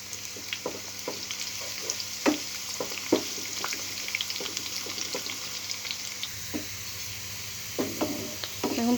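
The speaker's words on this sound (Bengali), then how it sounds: "এবার আমি পেঁয়াজটাকে দিয়ে সুন্দর করে একটু ভেজে নেব" Onion fries in hot oil in a pan for kachki shutki balachao, a faint, steady sizzle broken by scattered light clicks and taps of a utensil, with a thin watery hiss in the background.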